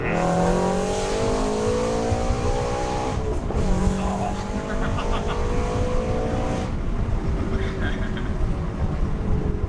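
A full bolt-on Subaru BRZ running E85 revs hard from inside the car, its engine note climbing and falling in steady sweeps with tire noise, while people talk under it.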